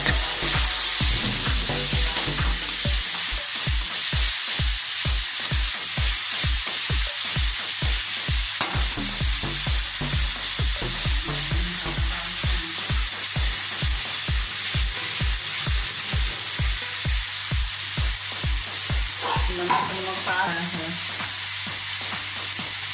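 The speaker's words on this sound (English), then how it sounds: "Now add tomatoes puree in a pan and fry it." Tomato puree frying in a pan for chicken biryani, a steady sizzle broken by a long run of regular scraping and stirring strokes, close by, with no talk.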